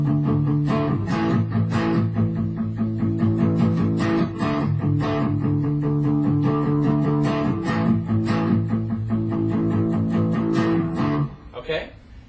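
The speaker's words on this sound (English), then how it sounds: "if you're playing it with the power chords, it'll sound like this" Guitar strumming a song's rhythm with power chords, a steady driving pattern of chugging strums with accented hits, loud and up close, ending with a brief scrape at the close.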